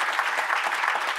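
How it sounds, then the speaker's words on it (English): Audience applause at a cultural gathering about the Great Lakes, a brief, even wash of many hands clapping at moderate level, continuous with no voices. "why don't you stand up and give a little applause"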